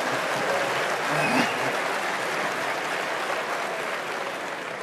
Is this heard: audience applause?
yes